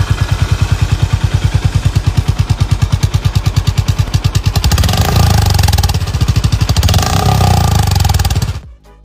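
Close, loud exhaust from a 2023 Honda GB350S motorcycle, a steady rapid thumping idle that swells into a heavier, rougher rev before cutting off abruptly near the end, no talking.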